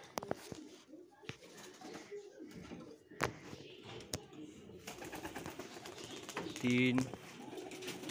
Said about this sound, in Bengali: এই পায়রাগুলো ট্রেনিংয়ের জন্য ছাড়া হচ্ছে